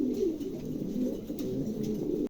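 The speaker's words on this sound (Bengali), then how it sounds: "চমৎকার একজোড়া কবুতর, ভালো লাগলে অবশ্যই সংগ্রহ করতে পারেন।" A pair of pigeons cooing at close range, soft low repeated coos in a steady rhythm, alone without speech.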